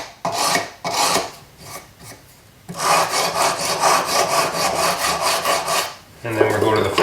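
Sandpaper rubbed against a small metal broadsword pendant with ruby accents, quick rhythmic back-and-forth rasping strokes, close and fairly loud, with brief pauses between passes.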